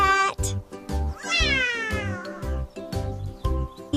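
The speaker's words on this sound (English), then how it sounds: "C for cat. Cute cat." A cat meows several times in drawn-out, gliding cries over a steady, rhythmic nursery-song beat, close and clear.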